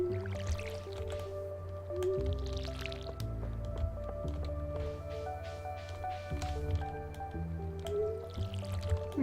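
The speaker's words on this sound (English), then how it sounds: "We'll water our crops" Watering crops with a watering can in the Stardew Valley farming game: repeated squishy, dripping splashes of water over a looping game melody and tones, at moderate level with no talking.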